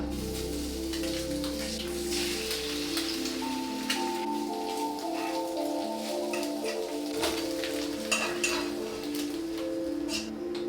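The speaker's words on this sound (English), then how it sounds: "I'm gonna fry this bacon up for sure" Bacon frying in a pan gives a continuous crackling sizzle with scattered sharp pops and spits, steady and close, alone without talk.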